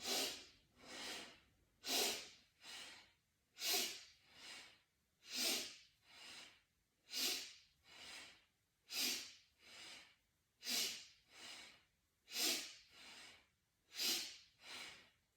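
Deep, forceful breaths in and out during a morning breathing exercise, about ten sharp cycles of audible inhales and exhales in a steady rhythm, close and clear, with no talking.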